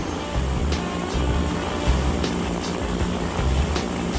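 Zeppelin airship engines with vectored propellers driving a near-vertical takeoff, a steady loud droning roar with a low throbbing pulse that holds evenly throughout.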